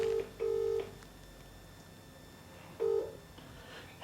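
Touch-tone telephone keypad dialing a call: three short clear DTMF beeps in separate bursts, one brief, one longer, then another after a pause, over a faint background hum.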